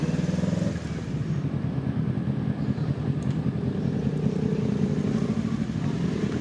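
A group of big bike motorcycles rolls up to Manaoag church, a low, continuous engine rumble that holds steady throughout with faint voices mixed in.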